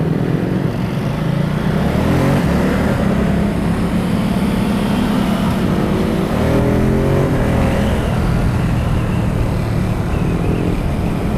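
Ducati Supersport S motorcycle engine droning loud and close, with rising and falling revs as it shifts down, continuous throughout with no talking.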